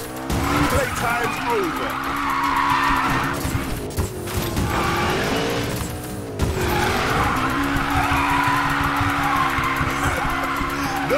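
McLaren drifting in the Need for Speed racing game, a drift trial run: a revving engine and sustained, wavering tire squeal across several long slides, loud and close, with a short spoken line over it.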